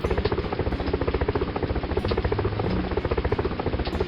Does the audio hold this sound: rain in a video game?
no